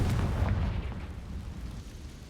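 A Confringo fire spell explodes in the video game Hogwarts Legacy: a loud, deep boom that rumbles and slowly fades over about two seconds.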